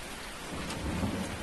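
Rain and thunder from the Farming Simulator video game: a steady dense hiss of rainfall with a low thunder rumble swelling midway, moderate in level with no voices.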